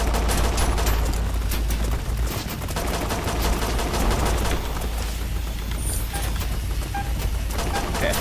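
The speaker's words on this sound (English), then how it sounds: "that robot is shooting an awful lot of bullets." A robot in the shooter STHELL sprays a long, relentless stream of rapid gunfire, loud and close, with dense repeated shots and a low rumbling bed underneath throughout.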